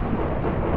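Thunder rumbling after a lightning strike in the Minecraft video game, a dense low continuous roar filling the whole moment at steady loudness with no voices over it.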